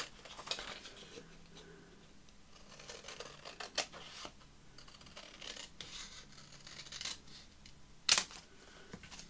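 Scissors cut out a paper collage tag made from ephemera, with faint, sparse snips and rustles close by and one sharper click near the end, in a quiet room.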